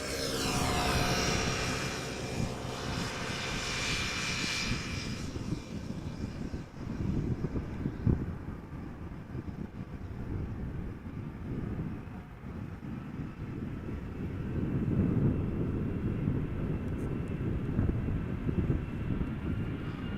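An airliner approaches to land at Amsterdam Schiphol Airport, its distant engine whine and rumble rising and falling steadily for about twenty seconds, with no one speaking.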